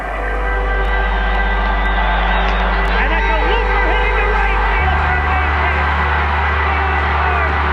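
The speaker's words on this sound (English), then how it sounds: "This crowd is standing and roaring." Baseball stadium crowd at a Kansas City Royals World Series game, standing and roaring in a loud, sustained wall of noise while an announcer calls the play over it.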